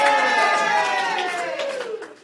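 An audience at a stand-up comedy show cheers with a burst of whooping voices that starts loud and fades away over about two seconds.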